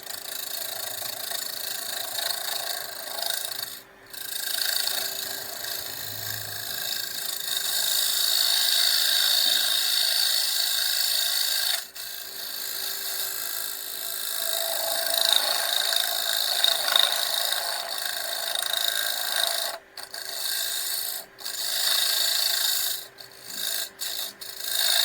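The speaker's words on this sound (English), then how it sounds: "I'm now using a carbide tool to square up" A carbide turning tool squares the top edge of a wooden garlic keeper spinning on a lathe, giving a steady scraping rasp and hiss that runs almost throughout, with a few brief cuts in contact.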